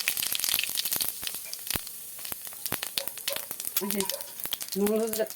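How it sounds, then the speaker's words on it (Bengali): Cumin seeds crackle and sizzle in hot oil, a close, busy patter of sharp pops and hiss, with a couple of brief voiced sounds near the end. "তেল দিচ্ছি, জিরে দিয়ে দিলাম"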